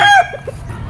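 A claret-bloodline gamefowl rooster at a game farm gives the loud, close end of a crow, cut off sharply, followed by a couple of soft low clucks and quiet background noise.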